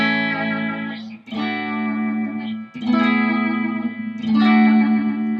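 Electric guitar bar chords strummed in a surf rock style with whammy bar bends, run through effects with reverb and chorus. Four sustained chords ring out one after another, wobbling in pitch, loud and with no voices.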